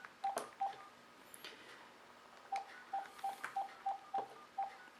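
Phone keypad tones sound as a call is placed to a Samsung Gear smartwatch: two short beeps, a pause, then a quick run of seven evenly spaced dialing tones, close and fairly quiet over a hushed room.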